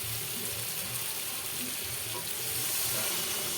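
Sautéed masala sizzles loudly in a pan as water is poured in, a continuous close hiss with a faint splashing, watery edge that swells slightly toward the end, no talking.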